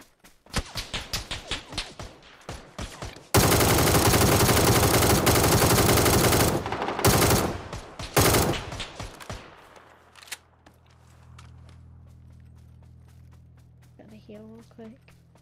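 Rapid bursts of FAMAS rifle fire in PUBG, the assault rifle crackling fast and loud in quick strings before a long sustained volley, then fading to quieter game ambience while players talk over the action.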